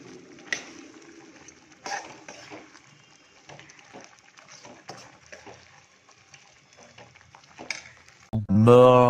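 Chili chicken frying in a pan is stirred, a soft sizzle broken by scattered scrapes and knocks of the utensil, before a loud voice cuts in at the end.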